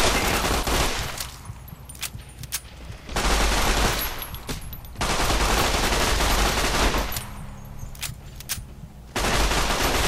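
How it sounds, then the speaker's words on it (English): A submachine gun in Fallout New Vegas rips off several rapid automatic bursts, loud and close, separated by short quieter pauses. "pull out the submachine gun and kill him"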